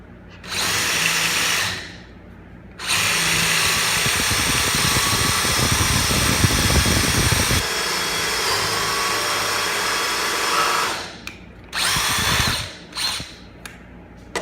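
A power drill whirs loudly in several sustained bursts while drilling pocket holes with a Harbor Freight Drill Master pocket hole jig, with short pauses between runs and a few quick trigger pulses near the end.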